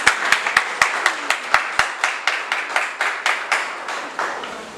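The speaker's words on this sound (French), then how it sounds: "Applaudissez cet esprit de Dieu." At a Haitian wedding ceremony, a congregation claps in a steady rhythmic beat, sharp distinct hand claps at an even pace that blend into a looser wash of applause as more people join in.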